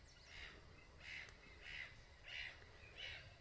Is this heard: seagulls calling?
yes